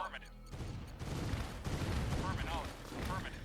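Cruisers shell infantry in the strategy game Command and Conquer Red Alert Remastered, producing a dense, continuous barrage of booming gunfire and explosions with no pauses.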